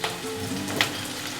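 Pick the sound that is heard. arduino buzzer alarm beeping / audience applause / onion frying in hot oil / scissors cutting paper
onion frying in hot oil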